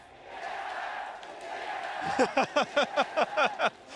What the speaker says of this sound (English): the TSM chants out of the Chinese crowd